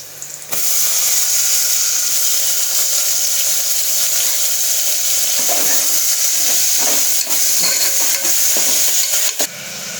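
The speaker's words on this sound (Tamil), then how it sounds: "இப்போ 4 தக்காளி கட் பண்ணி வச்சுருக்கேன், அதை போட்டுக்கலாம்." Four chopped tomatoes hit a hot pan already holding mint and coriander, sizzling loudly and steadily up close while a utensil stirs with occasional scraping knocks.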